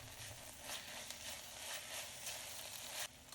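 Minced garlic and ginger paste fry with softened onion in a pan for a paneer korma, producing a faint, continuous sizzle with light stirring throughout.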